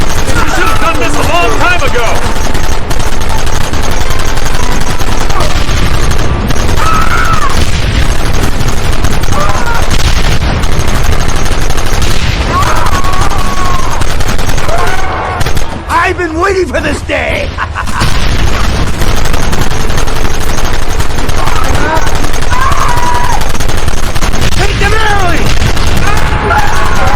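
Gunfire in the Red Dead Redemption western game, loud repeated shots and bursts with booms over a long stretch, with someone speaking and shouting over the shooting.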